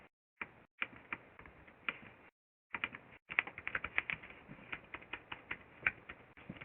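Quick, uneven bursts of keys clacking on a keyboard, close by, with a couple of brief pauses between runs of typing.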